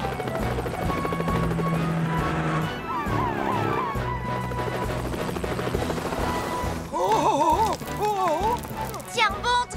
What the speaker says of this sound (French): Elvis, rejoins Tom et prenez l'hélicoptère.